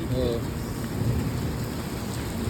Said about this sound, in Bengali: বজ্রপাতের আওয়াজ কিন্তু ডাইরেক্ট কানের মধ্যে লাগতেছে, এটা অতিরিক্ত আওয়াজ